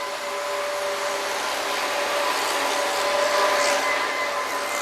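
A mud pump runs on a drilling rig, making a steady, loud mechanical roar with a constant droning hum, unbroken and alone without talk.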